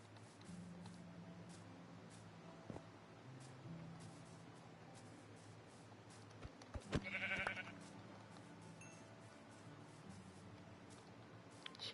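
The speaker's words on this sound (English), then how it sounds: "Kill the sheep? Okay." A Minecraft sheep bleats once, a short faint cry over quiet low background hum, with a few soft clicks around it.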